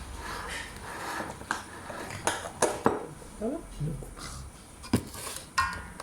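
A utensil mixes food in a dish, giving a string of sharp metallic clinks and scrapes at uneven intervals, close by, while people talk over it.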